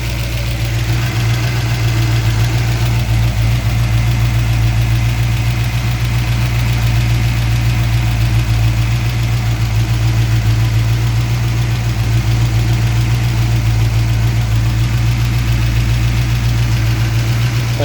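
Mopar 340 V8 with electrical problems that stalls after warming up, idling steadily and close by with a low, even rumble and slight knocking vibration throughout, with no talking.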